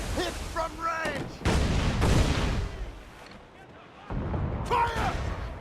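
Mortar fire in a video game, with several heavy booming impacts and rumbling blasts over a busy battle mix, loud and close, with voices shouting through it.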